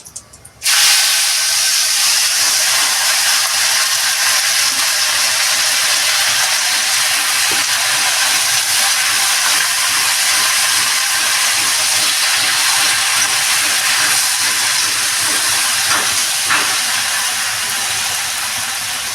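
Fresh spinach drops into hot mustard oil in a wok, setting off a sudden loud, close hiss that holds steady and strong for many seconds, easing only slightly toward the end.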